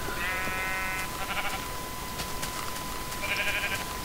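Minecraft sheep bleat twice in the game, a wavering, nasal baa near the start and another about three seconds later, fairly clear over a steady hum and light background noise.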